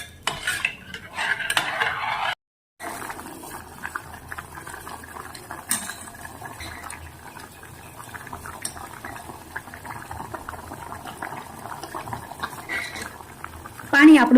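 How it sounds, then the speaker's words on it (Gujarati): Water with mung and masoor dal coming to a boil in an open pressure cooker, a constant bubbling churn close by, with a spoon clinking and stirring against the metal pot as it bubbles. "પાણી આપણું સરસ મજાનું ઉકળવા માંડ્યું છે."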